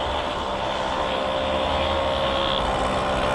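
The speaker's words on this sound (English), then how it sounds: "if you can hear me over the noise of the two-stroke in front of me that I'm slowly catching" A two-stroke motorbike pacing a road cyclist on a climb in Majorca drones steadily just ahead, a continuous loud engine hum blended with rushing wind and no pauses or speech.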